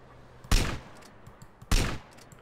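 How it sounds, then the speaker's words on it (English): Two separate loud gunshots in Grand Theft Auto: San Andreas ring out about a second apart, each a sharp crack with a short decaying tail over a quiet background. "Don't you see me shooting you?"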